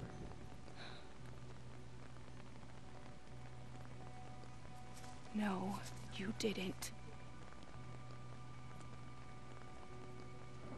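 Steady soft rain falls throughout a Watch Dogs game scene, faint and constant beneath a brief exchange of voices in the middle.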